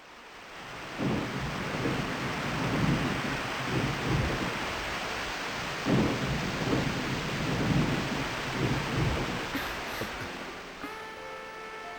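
Heavy rain pours steadily while thunder rumbles repeatedly in rolling bursts, loud and close, with no voices, in a Hindi action film.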